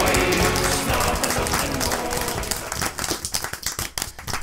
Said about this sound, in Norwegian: Gi en stor applaus til selveste kongen på de syv havkjøl